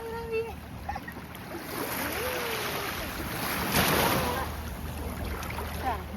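Ocean waves wash along the Tenerife seashore in a steady, rushing roar that swells slightly midway, with gusts of wind buffeting the microphone throughout.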